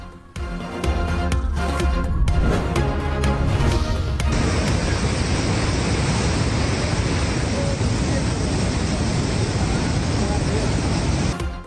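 Floodwater of the swollen Indus River rushes in a loud, steady broadband roar, preceded by a few seconds of uneven bursts before settling into a continuous surge.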